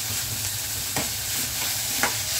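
Onion sautéing in a pan for a kantola vegetable dish: a steady, close sizzle with soft stirring scrapes and a few light clicks.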